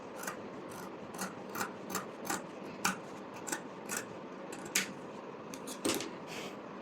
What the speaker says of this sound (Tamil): இப்போ இதை மட்டும் நான் கட் பண்ணி எடுத்துக்கிறேன்